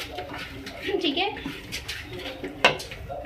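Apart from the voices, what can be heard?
stirring chicken pulao rice in a pot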